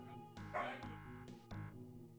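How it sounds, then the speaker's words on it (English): A dog barking and whimpering indoors, a few short yips and whiny cries in bursts, faint and somewhat distant, with no talk over them. "My dog is throwing a fit."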